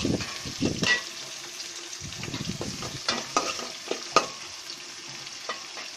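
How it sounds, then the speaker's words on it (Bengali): Onion fries in oil with cinnamon and cardamom, sputtering and crackling close by as a utensil stirs and scrapes the pan in uneven bursts, with brief pauses between strokes. "পেঁয়াজটা দারচিনি এলাচ সহ সুন্দর করে ভেজে নেব"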